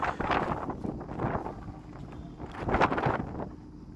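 Gusty, strong mountain wind at about 13,700 feet in Arunachal Pradesh buffets the microphone in rough, rumbling waves that swell and fade, with no voices present.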